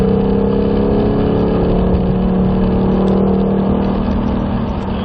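A car engine pulls steadily at high revs in fourth gear while lapping a banked track behind a lead car, a loud continuous drone with strong low harmonics and a slight rise in pitch, heard close with no talk.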